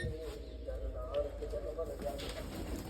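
Pigeons coo softly in a loft while someone speaks nearby, with light rustling and occasional faint chirps.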